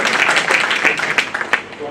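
Audience applause at a Bar Council enrolment ceremony, brief bursts of clapping heard under a speaker's voice.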